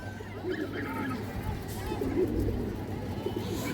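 Low pigeon cooing close by, soft and repeated, with a murmur of people talking in the background.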